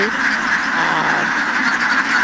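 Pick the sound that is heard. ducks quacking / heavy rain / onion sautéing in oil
ducks quacking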